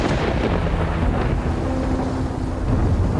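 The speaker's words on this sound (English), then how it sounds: "It's really storming." Loud thunderstorm with heavy rain and rolling thunder, a steady dense roar with deep rumbles throughout and no speech.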